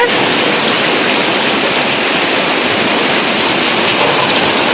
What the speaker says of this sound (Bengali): বৃষ্টির পড়া দেখে একবারে ভিজতে মনে চাইতেছে